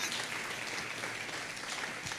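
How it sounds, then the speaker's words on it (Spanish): Steady applause from a church congregation, dense and continuous clapping throughout at an even level. "Denle un aplauso al Señor"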